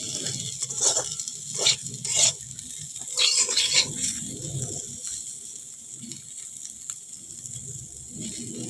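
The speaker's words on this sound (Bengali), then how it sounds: "চলো আর একটু ভাজা হোক, তারপরে নামিয়ে নেব।" Neem leaves frying in a pan, giving light crackling sizzle and a few sharp spatula taps and stirs early on, then a quieter steady frying hiss.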